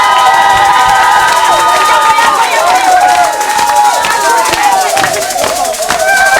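A large congregation at a lively church worship gathering erupts in loud cheering and clapping, with high excited shouts and voices rising and falling over a continuous roar of the crowd.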